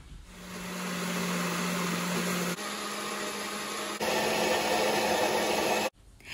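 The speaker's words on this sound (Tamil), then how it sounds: "இப்போ இதை பிளெண்டரில் போட்டு நல்லா ஜூஸ் எடுத்துடலாம்." A blender whirs steadily as it blends chopped beetroot with a cup of water into juice, a loud continuous motor drone that shifts pitch twice before cutting off abruptly near the end.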